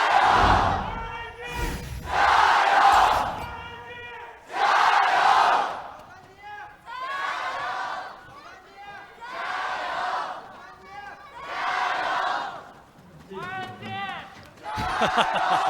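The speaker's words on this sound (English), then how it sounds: "The chants are deafening as we load onto the Rift." Dense arena crowd at an LPL League of Legends match between RNG and LGD chants in loud rhythmic bursts, swelling and fading in repeated waves with shouted cries throughout.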